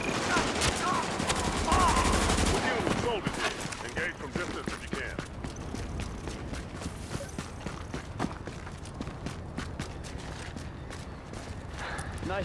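Rapid bursts of video game gunfire with clattering machine-gun volleys, loud and dense throughout, mixed with game music and effects, strongest in the opening seconds.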